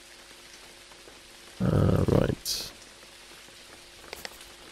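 Rain in the Jalopy driving game, a faint steady patter under a brief loud burst of noise, with someone speaking a single word.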